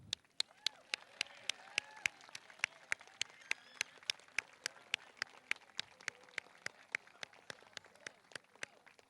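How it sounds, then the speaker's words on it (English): Sparse, regular single claps ring out at an eighth-grade graduation as names are read, evenly spaced sharp strikes over a faint room hum, with a voice speaking quietly underneath. "We can clap."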